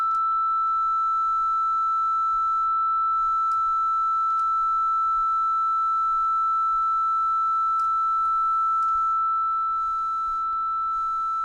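A steady, pure sine tone through a chrome oxide tape emulation holds throughout at moderate level, with a faint hiss of tape noise beneath and a few tiny clicks.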